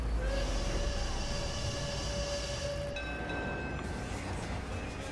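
Train-whistle goal horn in the car-soccer game Rocket League, a sustained tonal whistle blowing over steady game noise, cutting off partway and followed by a thinner continuing tone.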